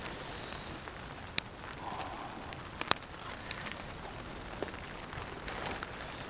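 Steady rain falls during a summer pepper and round eggplant harvest outdoors, a soft continuous patter with a few sharper drop ticks, fairly quiet and with no voices.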